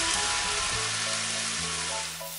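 White wine poured into a hot pan of mushroom and bacon for carbonara, giving a bright, hissing sizzle that is strong at first and eases off toward the end, over a low steady hum.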